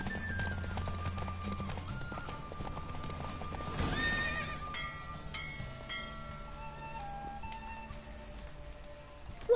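Rapid hoofbeats of a galloping horse with a whinny during a horse race in The Witcher 3, set against a steady musical backdrop, moderately quiet.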